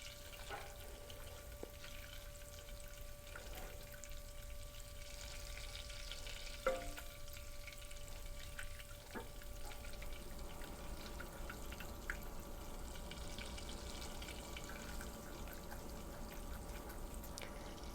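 Butter browns and froths in a pan while being stirred, a quiet steady bubbling sizzle with occasional light clinks and a faint constant tone in the background.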